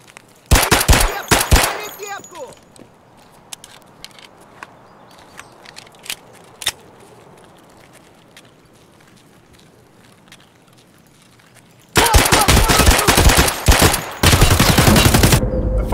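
Sharp pistol shots from the video game Escape from Tarkov crack in a quick opening burst, then sparse isolated shots, before a loud rapid volley of firing returns near the end.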